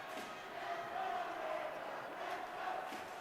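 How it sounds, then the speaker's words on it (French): Arena crowd at a hockey game cheering on the favourite team, a sustained roar with rising swells of shouting, moderately distant and fairly faint beneath the rink ambience. "Alors que la foule encourage le favori"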